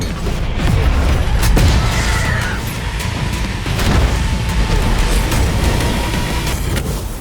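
A bridge blown up in Devil May Cry, heavy booms and crashing blasts rolling over several seconds, loud with a rumbling tail and a second surge midway.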